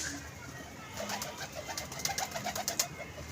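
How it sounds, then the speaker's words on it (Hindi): Teddy pigeons, a mated pair at a pigeon club, coo softly with a few brief calls and light rustling, fairly close and quiet, no talking. "ये बने बनाए जोड़े और बड़ा अच्छा टैडी कबूतर है ये"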